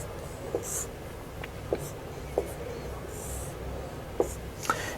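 Pen or marker writing a number on a board or paper during a math lesson, heard as a few faint, scattered scratchy taps and strokes over quiet room noise.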